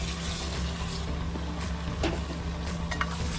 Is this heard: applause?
no